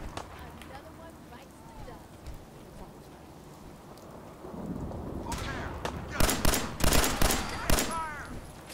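Steady rain and rolling thunder fill a stormy Fallout 4 game scene, with a voice talking over the downpour and sharp crackling gunfire bursts cutting in during the second half.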